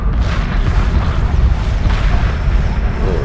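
A heavy, rumbling explosion fills the whole clip as a destroyer is blown apart in the space strategy game Homeworld Remastered, loud and dense with no clear voices over it.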